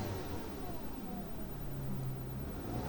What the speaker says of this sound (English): After installing the new spark plugs and coil packs, the engine felt smooth and that choppy misfire was gone.